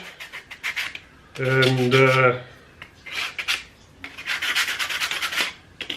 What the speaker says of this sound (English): you just want to hit it with a sanding block or a file or something, just to get rid of any splinters or rough edges